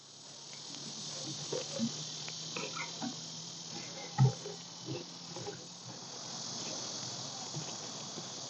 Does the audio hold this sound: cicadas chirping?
yes